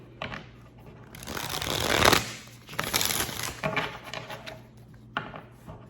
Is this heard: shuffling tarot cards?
yes